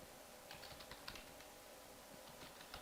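Quiet, rapid tapping on a computer keyboard while code is entered, with irregular clusters of keystrokes over a low steady background hum.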